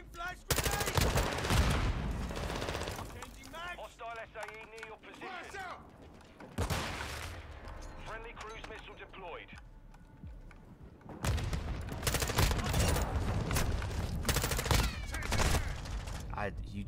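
Bursts of rapid gunfire from Call of Duty Modern Warfare II come in loud dense volleys separated by quieter gaps, with machine-gun rattles and booms layered over game noise.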